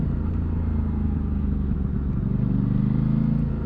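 An Aprilia Tuono 660 ridden in first gear on a bumpy road, throttle rolled on and off, gives a close, steady low engine drone that swells and eases slightly without pause.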